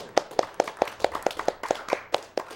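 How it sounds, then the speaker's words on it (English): A few people clap together during a charity marathon stream, about a dozen crisp, fairly close hand claps in a loose, slightly uneven rhythm with no talk over them. "We're Clapping for the donation."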